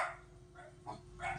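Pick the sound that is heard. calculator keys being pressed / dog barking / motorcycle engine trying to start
dog barking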